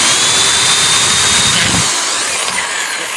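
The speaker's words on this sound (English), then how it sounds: "we're going to drill these two holes here" A power drill bores holes for a pool gate latch bracket, a loud, continuous high whine that runs close and steady, its low rumble dropping away near the end.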